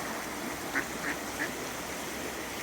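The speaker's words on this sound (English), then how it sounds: "see how these ducks are playing with each other" Ducks playing together on the Credit River, giving three short, distinct quacks in quick succession, moderately near, over a soft steady background of flowing water and outdoor ambience.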